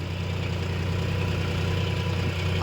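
A John Deere 5050 D tractor engine runs steadily while pulling a plough, a loud, continuous diesel drone with a constant low throb and no pauses or talk.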